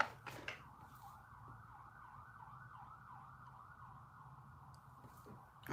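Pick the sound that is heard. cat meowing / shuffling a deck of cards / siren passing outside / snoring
siren passing outside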